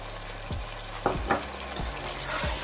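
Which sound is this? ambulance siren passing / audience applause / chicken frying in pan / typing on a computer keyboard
chicken frying in pan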